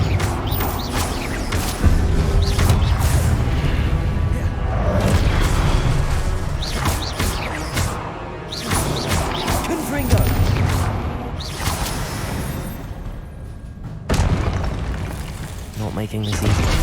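Blasting spell explosions in the Hogwarts Legacy video game, a dense run of loud booms and crashing impacts layered with game effects and voices throughout.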